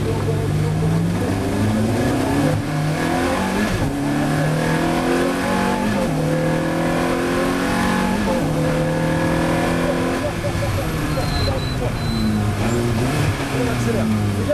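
Ferrari F430 Challenge race car on a track, engine rising and falling through repeated hard accelerations and gear changes, loud and close throughout, with a voice talking over it.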